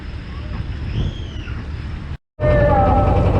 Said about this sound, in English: we are now on the boat taking us around, and it's very noisy